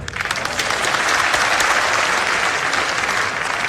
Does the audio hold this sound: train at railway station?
no